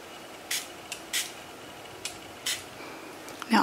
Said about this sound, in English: I'm just going to need to spray it with some water